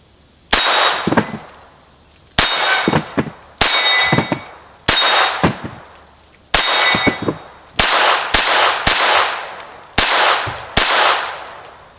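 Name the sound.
Ruger SR22 pistol rounds hitting an 8-inch steel gong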